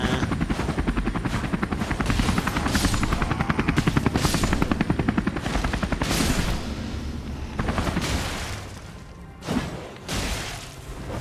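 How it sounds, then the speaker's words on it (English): A helicopter-like whirring sound from the video game Elden Ring beats in a fast, steady rotor pulse that stays loud and close, then breaks into a few sharp hits and pauses near the end. "Helicopter, helicopter."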